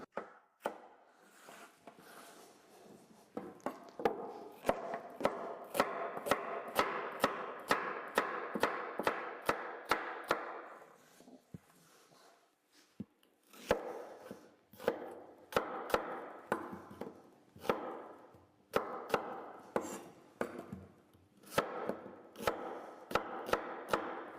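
Knife chopping vegetables on a wooden board for beef rouladen, a steady run of sharp close taps in quick bursts, pausing briefly midway before resuming, with no talking.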